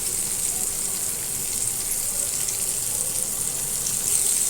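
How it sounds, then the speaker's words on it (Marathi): Tol fish fry in a pan with a steady, hissing sizzle that stays even and close throughout, with no voices over it. "परत या साईडने अशीच भाजून द्यायची"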